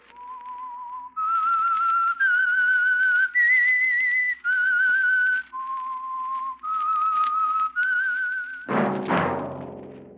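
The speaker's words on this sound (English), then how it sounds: "That whistle is your signal for the Signal Oil Program, The Whistler." Radio show theme whistled alone, a clear, close melody of long held notes stepping up and down, with a brief burst of orchestral sound at the end.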